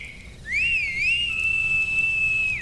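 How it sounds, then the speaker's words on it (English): A piercing, shrill whistle starts abruptly, wavers up and down in pitch twice, then holds a long steady tone before cutting off, loud and close over a faint background hiss. "a deafening whistle pierced the silence."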